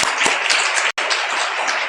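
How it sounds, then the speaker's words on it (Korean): Church congregation clapping during a Sunday service, a brief burst of dense applause with a short gap in the middle, moderately loud and without talk. "박수 한번 쳐주시겠습니다."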